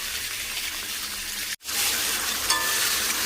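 Capsicum and tomato fry in a pan with whole garam masala, giving a loud, steady sizzle and crackle that breaks off briefly midway and then resumes just as strongly, with no talking.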